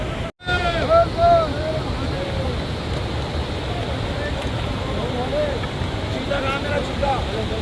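Icy glacier meltwater from the snow rushes in a steady, loud, broadband roar close by on the Amarnath Yatra route, with faint voices and wind buffeting the microphone over it.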